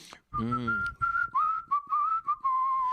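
A person whistles a short, wavering melody up close, imitating the whistle part of a song, a few notes with brief breaks between phrases, preceded by a quick vocal sound.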